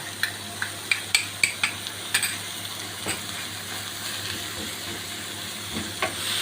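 Keema fries in a pan with ginger garlic paste for stuffed bitter gourd. A soft sizzle runs throughout under a series of sharp spoon scrapes and taps against the pan early on, with a few more stirring knocks later.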